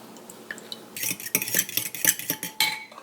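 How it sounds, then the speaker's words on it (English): Whisking wet cake batter with artificial vanilla extract in a bowl: a quiet start, then a rapid run of close, sharp clinks of metal against the bowl, alone with no voices. "once you've got that all whisked up"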